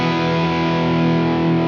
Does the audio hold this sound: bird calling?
no